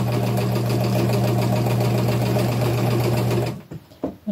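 A sewing machine running a zigzag stitch on upcycled clothing, a loud steady mechanical whir for about three seconds, then stopping, followed by a few faint handling clicks.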